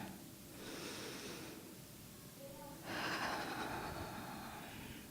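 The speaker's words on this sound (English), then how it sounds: "I invite you to take a deep breath with me" A gathered congregation draws a deep breath together, a soft rushing inhale followed by a longer, fuller exhale, both hushed and diffuse across the room.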